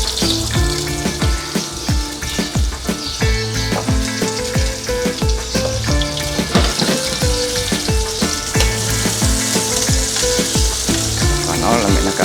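Potato pieces fry loudly in hot oil in a pan with dense, continuous close-up sizzling and crackling, joined by occasional stirring clatter.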